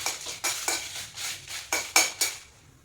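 Chillies and tamarind dry roast in a pan with about eight rhythmic scraping and stirring strokes of a metal spatula, close and clear with no talk.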